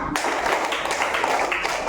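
A group of teachers in a coaching session claps steadily through an Indonesian clapping chant, the dense, fairly close, even patter continuing throughout with no talk over it.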